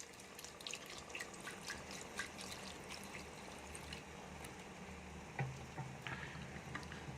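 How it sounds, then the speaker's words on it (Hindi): Water is poured into a pot of mutton and potato curry, a soft trickling and dripping heard close but faint, with a few small clinks of the pot. "अब इसके अंदर हम पानी ऐड करेंगे।"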